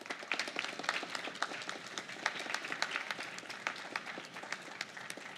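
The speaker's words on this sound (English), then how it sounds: "please give your parents a round of applause," A concert audience at an honor band event applauds the parents with steady, moderately distant clapping that holds at an even level throughout, with no voices rising above it.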